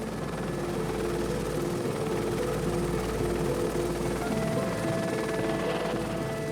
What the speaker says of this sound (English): Spooked by the noise of the helicopter,